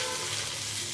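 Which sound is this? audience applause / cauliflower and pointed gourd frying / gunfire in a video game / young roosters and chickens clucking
cauliflower and pointed gourd frying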